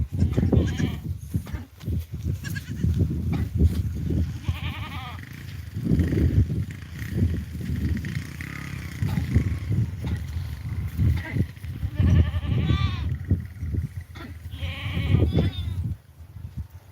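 Goats and sheep bleat repeatedly from close by, overlapping calls rising and falling amid a busy flock being let out by shepherds, with people talking in between.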